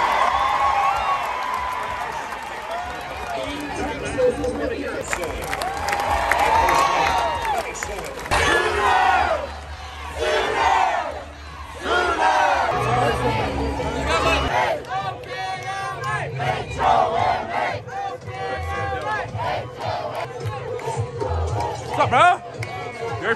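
A packed stadium crowd at the Women's College World Series cheers, whoops and chatters around the listener, with loud surges of shouting rising over a constant babble of nearby voices, and people talking up close.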